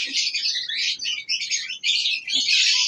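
Breeding-pair cockatiels, including a red-eye albino, and mutation lovebirds chirp busily at a farm, a close, dense stream of shrill overlapping tweets with only brief pauses.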